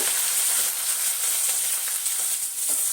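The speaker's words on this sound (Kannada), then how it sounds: "ಚೆನ್ನಾಗಿ ಫ್ರೈ ಮಾಡ್ಕೊಳ್ಳೋಣ" Onions sizzling in a pan for vegetable upma, a close, steady crackling hiss with faint stirring scrapes, heard alone with no voices.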